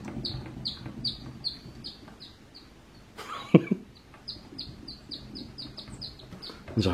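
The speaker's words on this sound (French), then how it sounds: "Regardez pour cette table, regardez le bruit qu'elle fait." Rapid high-pitched squeaks from a table repeat in quick runs, sounding like chirping birds, broken by a short clattering bump midway.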